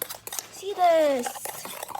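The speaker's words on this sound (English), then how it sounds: "I keep stirring and it's not changing at all." A spoon stirs a sugary dalgona coffee mixture, giving soft scraping and light metallic clinks against the cup. The sound is brief and close, and a voice talks over part of it.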